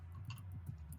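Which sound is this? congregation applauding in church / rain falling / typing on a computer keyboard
typing on a computer keyboard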